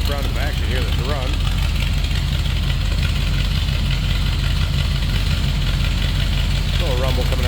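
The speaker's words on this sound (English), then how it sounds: "Little rumble coming out of that 350." A 1975 Chevrolet Silverado pickup with a 350 V8 idles with a steady low rumble, heard from behind the truck, loud and continuous with some faint voices and noises over it.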